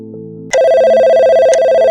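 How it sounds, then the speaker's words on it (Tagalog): A telephone bell starts ringing abruptly after a moment of quiet, a loud sustained electronic trill with a second burst near the end, alone without voices. "Pwede bang ikaw muna yung sumagot sa telepono?"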